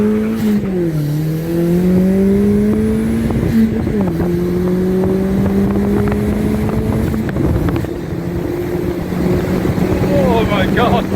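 An MGB GT with a drift handbrake is driven hard, its engine droning loudly and rising and falling through gears, with wind rush and some tire noise heard from inside the car.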